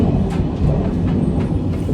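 Train rolling along the rails in Korea, a loud, steady rumble with faint rhythmic clatter heard from inside the carriage, no talking.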